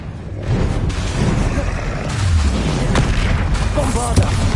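Confringo spell blasts explode during a troll fight in Hogwarts Legacy on PS5, deep booms rolling through a dense, continuous battle din while a voice calls out over the action.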